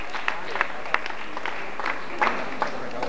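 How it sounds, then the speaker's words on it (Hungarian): Audience applause at a Hungarian children's home awards ceremony, a steady wash of clapping with a few sharper claps standing out, moderately loud and with no talk over it. "Azt hiszem egy külön tapsot ez is megérdemli."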